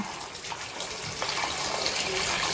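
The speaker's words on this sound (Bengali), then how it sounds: "এবার মিষ্টি কুমড়াটাকে ধুয়ে নেব" Tap water runs steadily over cut pieces of young sweet pumpkin being washed in a kitchen, a close, continuous gushing splash with faint handling noises and no speech.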